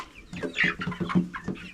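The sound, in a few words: chickens clucking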